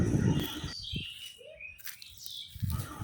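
Birds chirping with short high calls and a brief tweet, alongside some low thumps and background noise.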